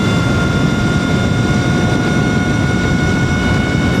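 A Sur-Ron electric dirt bike fitted with a 54-tooth sprocket and gold race chain, ridden at full throttle on the road: a loud, steady electric motor whine with strong wind roar, constant throughout, no talking.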